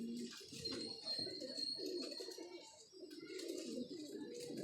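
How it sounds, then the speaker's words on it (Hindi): Pigeons coo softly in a breeding setup, with low, rolling calls overlapping almost continuously. The sound is faint and close, and someone talks quietly in the background. "मस्ती में हैं कबूतर सारे मेरे, मज़े में हैं, एक्टिव हैं सारे।"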